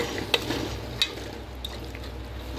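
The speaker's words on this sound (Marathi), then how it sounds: "चणे चांगले परतून घ्या" Chickpeas sautéed in a hot pan give a low steady sizzle, broken by a few sharp ticks of a spoon stirring against the metal.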